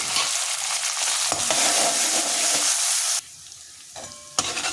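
A tempering of peanuts, lentils, dried chilli and capsicum sizzles loudly in a pan as turmeric goes in, with stirring scrapes, then the frying drops sharply quieter near the end before a brief clatter.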